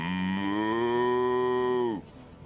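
A cow in the video game Divinity: Original Sin gives one long, loud, close moo lasting about two seconds. It cuts off abruptly into quiet game ambience.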